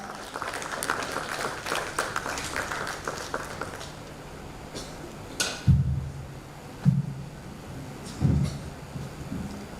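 Conference attendees applaud to welcome a speaker to the podium, brisk clapping for the first few seconds that trails off into a few loud thumps and knocks from the stage.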